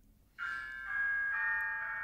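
Sustained bright chime tones ring out as an alarm sound, a sequence of soft overlapping bell-like notes that sustain and blend, fairly close and steady with no talking.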